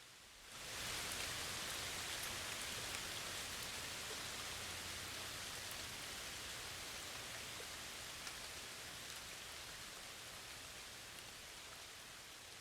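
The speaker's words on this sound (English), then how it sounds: "spilled their precious rain across the land, scorched and glowing, now quenched" Steady, even rain falls continuously and fairly loudly for the whole stretch, with a dense hiss and no voices.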